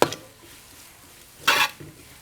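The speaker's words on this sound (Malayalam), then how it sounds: "എന്നിട്ടത് നല്ലപോലെ ഒന്ന് ഇളക്കി കൊടുത്ത് മിക്സ് ചെയ്യാം" Chicken coated with Kashmiri chilli powder stirred in a pan for karela gosht, giving two short, close scraping bursts of spoon against metal separated by a quiet gap, with a faint sizzle beneath.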